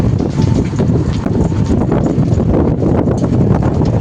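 Strong wind batters the microphone on a rough road trip toward the Sundarbans, a loud continuous buffeting roar with no letup, nearby and alone.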